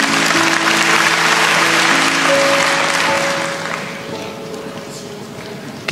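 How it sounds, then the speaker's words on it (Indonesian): A church congregation claps steadily for a few seconds at a worship service, the dense applause gradually thinning and fading toward the end. "Kasih tepuk tangan untuk Tuhan Yesus."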